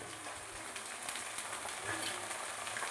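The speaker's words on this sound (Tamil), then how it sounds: "நல்லா வதக்கிட்டு எண்ணெயில் தான் வதக்குறேன் நான்" A drumstick-leaf mixture sautés in oil with a constant soft, hissing sizzle and faint crackle, steady and fairly quiet with a few light stirring taps.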